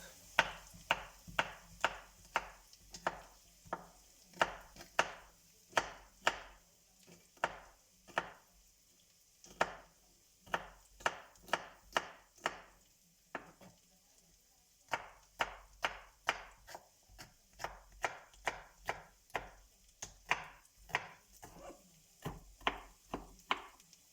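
A knife chops food on a board in quick, regular strokes, crisp and fairly close, with brief pauses between bursts, while preparing crispy brick pastry filled with kefta and cheese.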